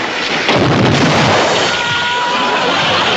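A prop cavalry cannon at a frontier fort from the 1960s TV comedy F Troop fires in a loud, booming blast that rumbles on and fills the whole stretch with no talk.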